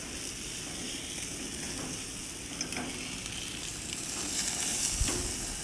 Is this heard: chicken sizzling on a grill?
yes